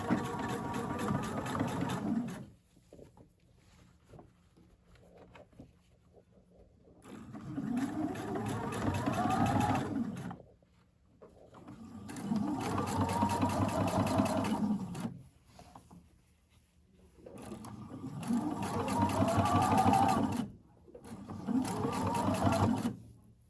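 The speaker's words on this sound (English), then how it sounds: "You're going to stitch right on the edge" A sewing machine stitches along a bra seam edge in four bursts of steady whirring, each several seconds long and separated by short pauses, close and moderately loud.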